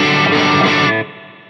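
Distorted electric guitar played through a Fractal AX8 modelling a Suhr Badger 18 amp, a loud, dense chord that rings and then drops to a quieter sustain, heard alone.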